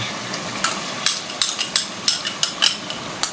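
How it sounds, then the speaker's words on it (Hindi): Yogurt frying with masala in a pan, a bright sizzle broken by a quick run of sharp spoon clacks and spatters, no talking. "ताकि दही भी हमारा भून जाए"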